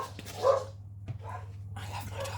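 A dog gives a few short barks and yips in a home kitchen while fairy cakes are being baked, close and moderately loud over a low steady hum, with gaps between the sounds.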